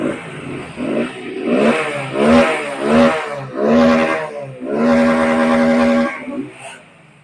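A Hero HF Deluxe motorcycle is started and then revved close by in a series of rising and falling throttle bursts. Each burst grows longer, ending in a sustained high rev before it drops back.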